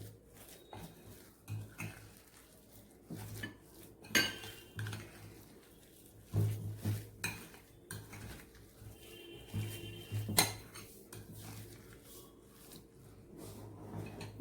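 A spoon clinks and scrapes against a bowl while biscuit sandwich filling seasoned with chaat masala is mixed, giving soft irregular stirring with a few sharper metallic taps, close and fairly quiet.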